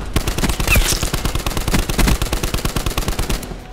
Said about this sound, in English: This is the gun I should be using.